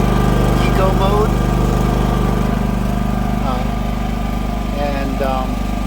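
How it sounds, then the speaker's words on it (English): A Predator 5000 portable generator runs steadily outside in eco mode, a loud, constant engine drone with a low hum throughout, while voices talk over it at intervals. "The generator is like right outside over here, and it seems to be fairly quiet in here."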